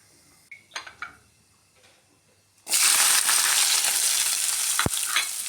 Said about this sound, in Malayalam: ഒരു വലിയ ഉള്ളി നാല് വെളുത്തുള്ളി രണ്ട് പച്ചമുളക് നമുക്ക് കടുക് പൊട്ടിയതിന് ശേഷം അതിലേക്കിടാം